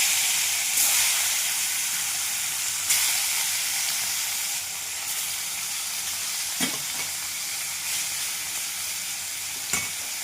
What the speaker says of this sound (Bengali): এবার মাছগুলো কড়াইতে দিয়ে দেবো একে একে।